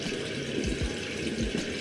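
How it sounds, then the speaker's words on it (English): Cold running water splashes steadily, with a few soft, low sloshing bursts as hands move through the stream while rinsing a face. "Rinsing my face with cold water."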